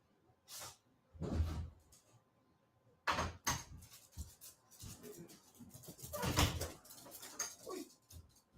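A front door is opened and shut for a package delivery, with scattered knocks, handle clicks and thumps spread over several seconds, fairly faint with quiet stretches between, and no talking.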